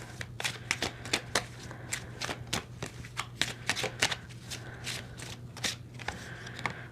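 Romance angel tarot cards shuffled steadily, their quick papery riffles and flicks repeating close by over a low constant hum, with no talking.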